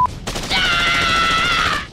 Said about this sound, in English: Then you strafing your enemies with your AK-47!